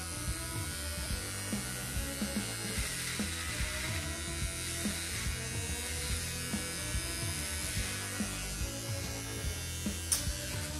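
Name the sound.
razor trimming beard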